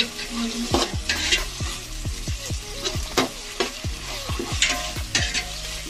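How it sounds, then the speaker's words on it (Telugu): Ginger garlic paste fries in a pan with a steady sizzle while a spoon scrapes and stirs it in quick, regular strokes, close up and without talk. "కలుపుతూ ఉంటాం. నెక్స్ట్ అల్లం వెల్లుల్లి పేస్ట్."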